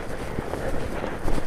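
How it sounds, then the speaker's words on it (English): A strong gust of wind, over 25 mph, buffets the microphone on a hillside slope used for soaring model gliders, giving a brief, rough, steady roar. "must have been a bit of a gust there."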